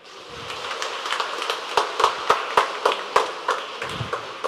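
A church congregation clapping at a Chinese New Year thanksgiving Mass, a short spell of loud, sharp, fairly rhythmic claps that builds, then fades.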